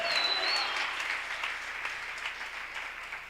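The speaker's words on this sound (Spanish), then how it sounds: "¿Cuántos le pueden brindar un aplauso fuerte al Señor?" A church congregation applauds loudly at a service, a dense, steady wash of clapping that fades slightly over a few seconds, with no voices over it.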